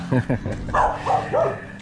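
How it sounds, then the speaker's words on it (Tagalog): A few short barks and yips from dogs nearby, quick and uneven, with some whimpering tones between them. "Mga aso."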